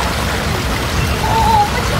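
Heavy rain pours down in a city, a steady dense hiss of falling water on hard surfaces throughout, fairly loud and close, with no voices.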